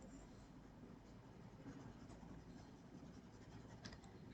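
Pencil shading on paper for a drawing of a plastic bag, a soft continuous scratchy rustle that is quiet and steady throughout, with no talking.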